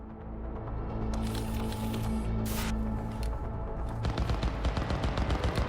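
Rapid bursts of automatic gunfire crackle outdoors in the Cyberpunk 2077 game, repeated shots layered over a low electronic hum, becoming denser and more clipped near the end.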